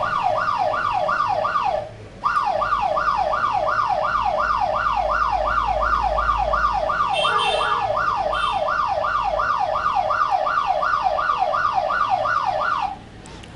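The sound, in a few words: alarm siren from a security device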